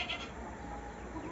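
A pregnant nanny goat with six teeth, for sale at a home livestock market, bleats in a hoarse, continuous cry close by, with no talk over it.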